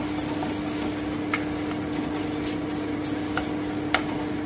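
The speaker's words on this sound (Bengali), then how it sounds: "আমি একটু নেড়ে দিচ্ছি" Grated paneer stirred in a pan for paneer bhurji, a steady soft scraping and faint sizzle with a few sharper spatula taps, close and continuous with no talking.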